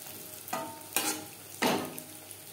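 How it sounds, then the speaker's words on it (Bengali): Chana dal fritters for motichoor laddu fry in oil over a medium flame, sizzling faintly with three louder bursts of crackle as batter drops in, no talk. "বড়া ভাজবেন মিডিয়াম ফ্লেমে।"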